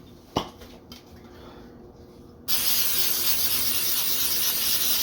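Oil sprays in a steady hiss onto a flat-top griddle for several seconds, loud and close, following a few quiet clinks of utensils.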